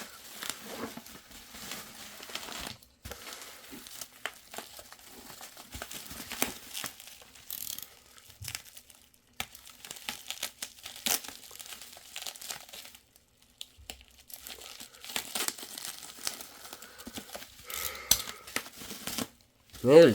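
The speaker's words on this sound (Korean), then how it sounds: "이제 뽁뽁이 뜯고 제품 한번 개봉해 보도록 하겠습니다." Bubble wrap around an ASRock B650M PG Lightning motherboard box is torn open and handled: irregular crinkling, crackling and tearing at close range over about twenty seconds, with quiet gaps between bursts and no talk.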